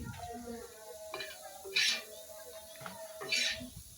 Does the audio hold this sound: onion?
yes